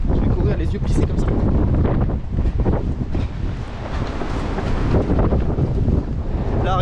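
Strong wind buffets the microphone on a coastal trail during a 92 km ultra trail race on the Côtes d'Armor, a loud continuous roar with gusty surges throughout, no voices.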